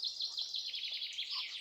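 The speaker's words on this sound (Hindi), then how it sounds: "हर तरफ से जो है परिंदों की चहचहाहट है" Birds chirp and twitter on a village morning, a continuous chorus of high, rapid calls close by with no talking over them.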